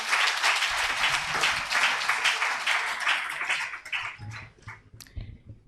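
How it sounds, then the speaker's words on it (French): An inaugural conference audience applauds to welcome a speaker, loud dense clapping that holds for several seconds, then thins out into scattered claps before fading. "je vous prie de bien vouloir accueillir avec votre acclamation Madame Lassé"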